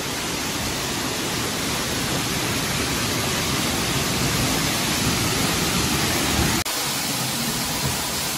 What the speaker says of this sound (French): Si on m'avait dit qu'il y avait une belle cascade comme ça au nord de Châlons